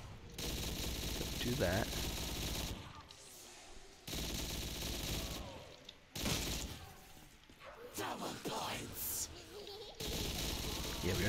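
Bursts of rapid machine gun fire in Call of Duty Black Ops 3 Zombies on the Dome Remastered custom map, loud sustained volleys broken by gaps with thuds and someone speaking.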